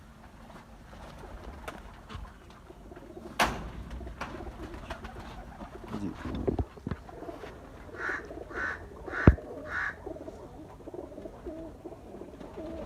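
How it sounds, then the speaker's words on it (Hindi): Soft, low cooing from several pigeons recurs through the clip, with a brief word spoken and occasional knocks and rustles around them, near the Ganda Singh border. "सारे कबूतर आगे पीछे बैठ रहे हैं"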